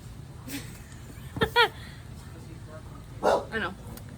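A pet dog barks in short bursts indoors, two quick yips near the middle and another pair near the end, fairly close over a quiet room.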